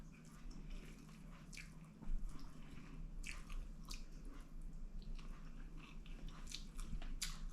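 Someone eats crispy fried fish biryani, with close, wet chewing and soft crunching bites repeating steadily, louder from around the midpoint, and no talking.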